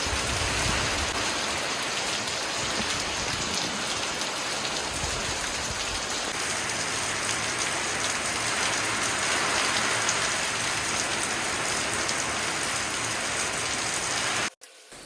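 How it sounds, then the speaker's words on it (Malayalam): Heavy monsoon rain pouring steadily and loudly on surfaces of a house sit-out, a dense continuous roar with gusty swells of wind, no voices, cutting off abruptly at the end. "നല്ല മഴയും അതോടൊപ്പം നല്ല കാറ്റുള്ളതുകൊണ്ട് തന്നെ സിറ്റൗട്ടിനകത്തൊക്കെ നിറയെ വെള്ളം വന്നിട്ടുണ്ട്"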